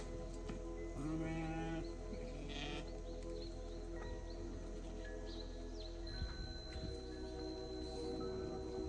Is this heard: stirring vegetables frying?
no